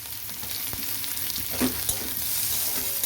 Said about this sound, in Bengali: পেঁয়াজটা আমি খুব ভাজবো না, হালকা করে একটু নেড়ে চেড়ে ভেজে নিলাম।